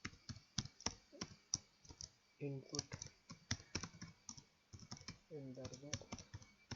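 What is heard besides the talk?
typing on a computer keyboard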